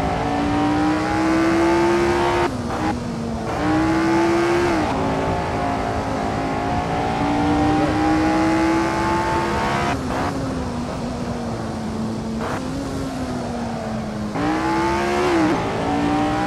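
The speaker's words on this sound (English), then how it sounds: "So much fun to drive these vintage cars." A 1967 Tasman Series vintage race car engine revs hard in Assetto Corsa, pitch climbing through each gear before dropping at shifts and lifts, loud and close for the whole stretch.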